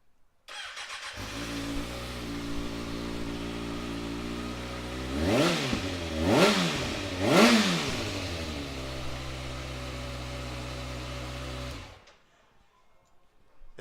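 A 2014 Kawasaki ZX6R 636 with a Leovinci titanium exhaust idles nearby with a steady, throaty burble, then revs sharply three times in quick succession before settling back to idle and shutting off.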